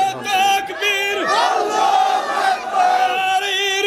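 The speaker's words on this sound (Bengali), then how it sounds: "একটা স্লোগান দেয় জোরে দেয়" A large crowd at a religious sermon gathering shouts a slogan together in loud, drawn-out chanted calls, repeated several times with brief pauses between them.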